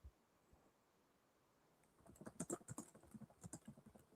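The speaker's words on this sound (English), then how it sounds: "And you're Googling, I hear the clicking." Computer keyboard keys click rapidly and close by during a Google search, a quick irregular patter of taps after a short pause, faint but clear.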